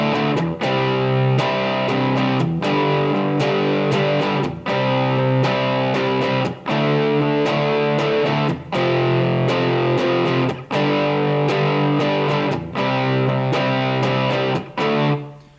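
Heavily distorted electric guitar plays the chorus of The Cult's Fire Woman, loud chugging power chords in a steady rock rhythm with short breaks between strums.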